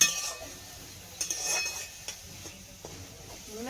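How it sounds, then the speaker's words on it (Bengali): Cooked red amaranth greens are served onto a plate with a series of light metallic clinks and scrapes of a spoon against dishware, close and quiet. "পাতে একটু দিই লাল শাক"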